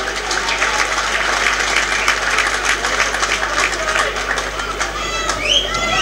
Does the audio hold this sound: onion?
no